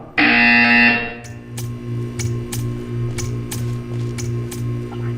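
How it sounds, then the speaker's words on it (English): A loud buzzer blares in the puzzle game Portal 2 for about a second, followed by a series of sharp regular clicks or ticks over a low hum. "You will hear a buzzer. When you hear the buzzer, stare at the art."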